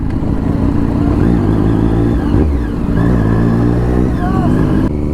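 Superbike ridden slowly through a dense Durga Puja crowd in West Bengal, the engine loud and close with rising revs and throttle blips, car horns and crowd noise around, someone speaking over it.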